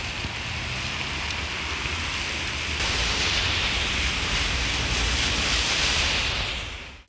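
Heavy rain pours down in a downpour in Yunus Emre, Manisa, a dense, loud, continuous hiss that swells slightly midway and holds steady without any voices before fading at the end.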